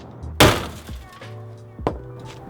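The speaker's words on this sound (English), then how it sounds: "we're going to smack it a little bit, just kind of get this whole side smashed in." Heavy blows smash in the side panel of a Scion FR-S parts car, with one loud crunching impact followed by a few lighter knocks and a second sharp hit near the end, the metal and plastic ringing briefly after each strike.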